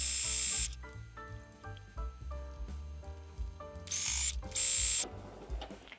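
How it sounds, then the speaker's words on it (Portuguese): A home sewing machine stitches ribbon trim onto fabric for a panty organizer, its close motor whirring in short, repeated runs separated by brief pauses. "agora a gente vai fazer a costura do nosso aviamento"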